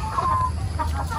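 Chickens cluck softly in a farm coop after being moved, a low murmuring of fowl with a few brief higher calls.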